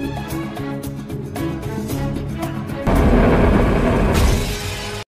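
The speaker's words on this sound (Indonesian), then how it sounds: "Pecahnya kaca penjara seketika membuat alarm berbunyi." Music plays, then a sudden loud burst of breaking prison glass crashes in partway through, followed by a second sharp smash near the end.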